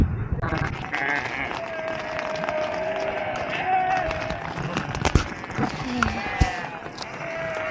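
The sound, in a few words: goats bleating around a tent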